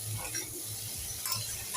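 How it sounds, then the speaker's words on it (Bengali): Spiced potatoes frying in a pan with a pinch of cumin powder, giving a faint steady sizzle with soft stirring scrapes, quiet and continuous. "দিয়ে এখন ভালো করে মশলাটাকে আলুটার সঙ্গে ভেজে নেব"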